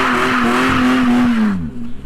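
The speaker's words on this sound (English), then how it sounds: "He did his first drift, you feel me?" Tires squeal in a long, sustained screech during a drift over a roaring supercharged Cadillac CTS-V engine, close and loud, sliding downward in pitch as it fades out.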